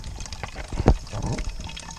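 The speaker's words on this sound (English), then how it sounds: "I'm still able to get the water in there, and you get that little bit of a drip" Water fills a leaky water filter on an Appalachian Trail hike: a short pouring burst with a small drip, close and fairly quiet over faint outdoor background.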